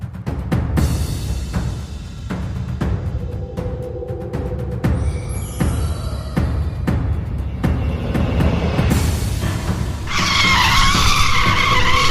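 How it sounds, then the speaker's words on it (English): Car braking hard with tires skidding on a road where a deer appeared, loud continuous tire noise with sharp clunks and a bright squealing rise near the end, no talk. "I was slamming on the brakes"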